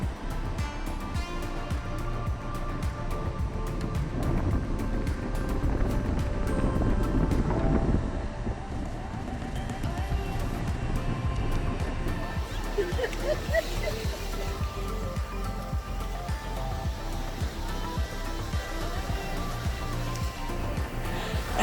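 Wind and ocean surf on the white sands of South Beach, Miami: a continuous broad rush of gusting wind buffeting the microphone over rolling waves, with a stronger swell midway and no voices.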